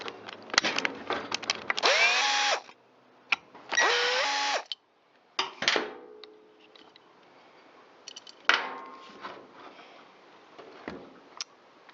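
Power driver backing out T27 Torx screws from the muffler of a Stihl MS193T chainsaw, several short whirring bursts with pauses between them, close and fairly quiet, with small handling clicks.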